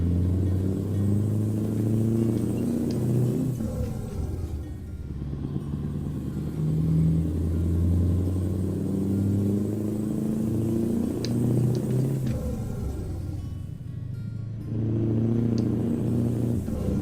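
A Scania R620 V8 truck engine in American Truck Simulator drones steadily as a low rumble throughout, swelling and easing with the revs in long waves and never falling silent.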